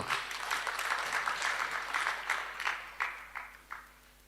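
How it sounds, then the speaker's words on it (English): An audience at a public lecture before a graduation claps, a dense round that thins into scattered, fading claps over a few seconds, with no talk. "You deserve another round of applause."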